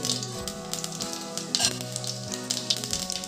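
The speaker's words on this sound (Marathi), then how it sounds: "तापलेल्या तेलात मी मोहरी टाकली आहे आता जिरं टाकते" Mustard seeds and cumin spluttering in hot oil in a kadhai for a tempering for raw mango sabzi: a crisp, continuous sizzle with sharp popping crackles, under soft background music.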